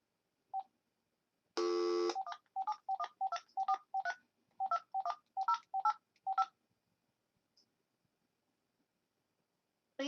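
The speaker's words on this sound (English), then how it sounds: "right now we are getting ready to dial up a recording of a call" Telephone keypad tones dialing into a recorded call line: one long tone, then a quick series of a dozen or so short beeps in an uneven rhythm, clean and alone against silence.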